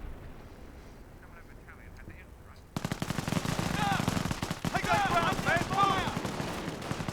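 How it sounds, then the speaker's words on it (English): Bren machine guns from the Company of Heroes video game rattle in dense rapid bursts after a quiet start, with battle noise and voices mixed in. "We have proper British infantry machine guns."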